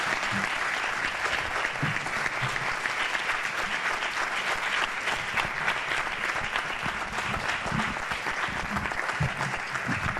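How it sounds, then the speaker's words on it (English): An audience at a League of Women Voters school board candidate forum gives a sustained round of applause, dense and even throughout, with a few low voices faintly underneath. "let's have a big round of applause for your candidates"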